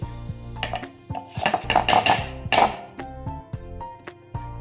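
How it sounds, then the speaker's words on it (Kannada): Close clattering of metal and dishware as washed ragi (finger millet) grain goes into a mixer jar, with several sharp clanks and a brief gritty pouring rattle in the middle, then softer knocks. "ಈಗ ಇದನ್ನು ಮಿಕ್ಸಿ ಜಾರಿಗೆ ಹಾಕ್ತೇನೆ"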